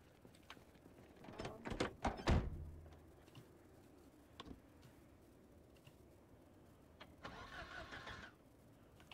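A car in the Project Zomboid video game cranks and its engine starts with a loud burst, then settles into a low idle. A door-like thunk follows later, and another brief rumble comes near the end.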